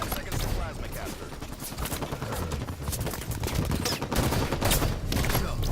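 Rapid gunfire in Halo 5: Guardians, dense bursts of shots and fusillades crackling close and loud throughout, with a voice talking underneath the shooting.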